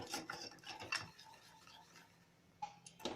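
A chocolate cake mixture with cocoa powder is stirred in a pan on a stove with the flame off, giving soft scraping and clinking strokes of a utensil, busy at first and then quieter, with a few sharp taps near the end.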